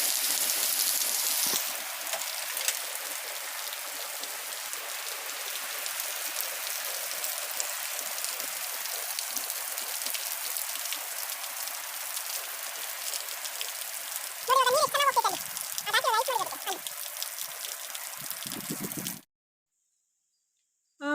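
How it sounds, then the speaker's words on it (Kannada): Steady heavy rain roars continuously with a gusty, hissing wash; a person speaks briefly partway through before the sound cuts off. "ಆದರೆ ಇವಾಗ ಬರ್ತಾ ಇರೋ ಮಳೆಯಲ್ಲಿ ಗಾಳಿನೇ ಜಾಸ್ತಿ ಇದೆ. ಮಳೆ ನೋಡಿ ಎಷ್ಟಿದೆ ಈಗ."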